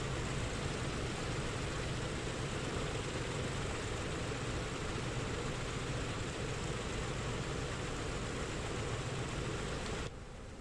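Piston engine of a PMDG DC-6A running in a flight simulator after start, a steady loud broadband roar with a low drone, holding evenly for ten seconds before dropping slightly at the end.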